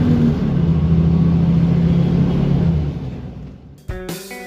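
A Transjakarta city bus on route B41 entering a toll road near Bekasi, a loud, steady engine rumble and road roar heard from inside that drops away, then gives way to brief ringing tonal chimes.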